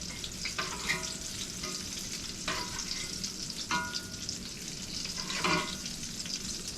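Chicken fried steak sizzles steadily in a hot frying pan, a dense crackling hiss with occasional louder pops and spatters, close and continuous.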